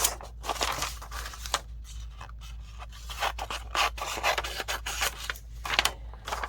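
Paper edges being trimmed for a mixed media pocket folder, giving soft, uneven rasping and cutting strokes, close and fairly quiet, with no talking.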